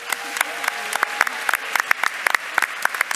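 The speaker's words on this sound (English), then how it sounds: "give a round of applause to our winners, everybody" A small audience claps for quiz winners, giving a brief burst of close, uneven hand claps that continues steadily for a few seconds, with no talking over it.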